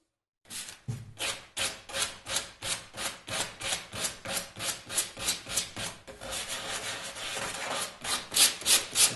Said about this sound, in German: schleifen wir hier die Ecken weg, dass hier eine schöne Rundung entsteht